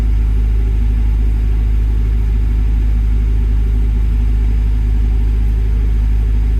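Diesel engine of a Doosan DX62 excavator running steadily at close range, a loud continuous low rumble with a constant throb and no talking.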